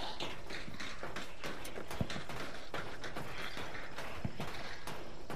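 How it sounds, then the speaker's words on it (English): Horse hooves clip-clop in the video game Hunt Showdown, a steady rhythmic run of quiet clops mixed with creaks and ambient game noise, with no talk. "That poor horse."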